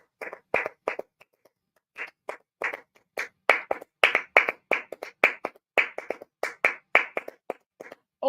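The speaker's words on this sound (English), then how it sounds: "You can get your clapping skills up." Hand clapping, a run of sharp claps close by, first in short scattered groups and then in a faster, steadier rhythm before ending in a few irregular claps.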